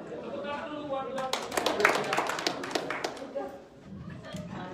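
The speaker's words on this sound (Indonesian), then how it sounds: "Tepuk tangan dulu buat Tuhan" A church congregation claps for God during a worship service, a burst of sharp hand claps that swells for a few seconds over background talk and murmur, then fades.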